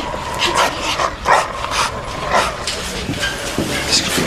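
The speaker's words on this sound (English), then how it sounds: "what about the dog?" A dog barks and whimpers in short repeated bursts through an indoor police-drama scene, mixed with background voices and a low rumble.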